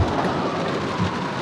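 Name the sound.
heavy rain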